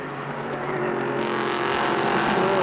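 Le Mans Cup race cars, including a Ferrari, run in close traffic at the Red Bull Ring: a dense, continuous engine roar that swells slightly as the pack passes nearby.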